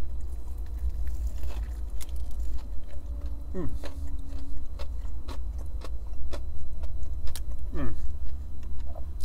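Crunchy bites and chewing on crispy KFC fried chicken, several crisp crackles spread over the clip, close up, with a low steady hum and background noise underneath.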